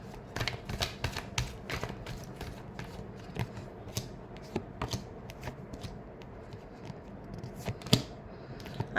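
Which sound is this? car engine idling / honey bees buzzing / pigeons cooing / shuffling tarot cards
shuffling tarot cards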